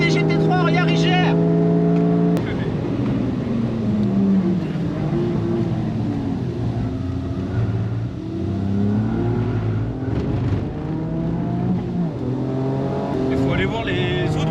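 Toyota Yaris GR race car engine droning loudly under steady throttle while chasing GT3 cars on track, pitch rising and falling through gear changes, with voices talking over the engine.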